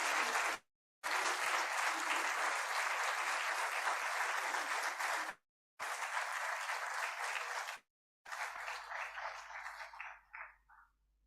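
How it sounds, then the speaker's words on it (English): Large audience applauding at a university ceremony with the Vice President of India: broad, sustained crowd clapping, broken by several abrupt gaps of silence, then fading out at the end. "Can we have a big round of applause,"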